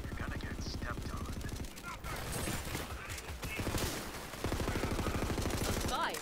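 Rapid automatic gunfire from Borderlands 3 rattles in long, loud bursts at the start and end, separated by a stretch of mixed game noise and explosions, under a talking voice.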